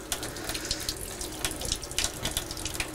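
OxyClean cleaning solution runs through a keg's inside beer line and outlet dispensing valve during keg cleaning, a steady close hiss of flowing liquid with small splashy bursts, no talking.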